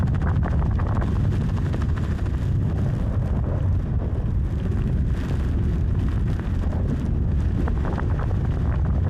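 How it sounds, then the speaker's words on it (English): Strong wind sweeps across open ice in a continuous, roaring low rumble that buffets the microphone steadily throughout, with no one speaking. "It's so windy."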